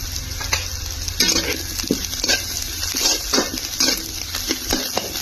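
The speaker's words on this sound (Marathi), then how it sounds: "मी थोडंसं मस्तपैकी फ्राय करून घेते" Masala for a village-style bombil (Bombay duck) curry fries in a little oil, with a steady sizzle and repeated scraping stirs of a spoon against the pan, close and fairly loud.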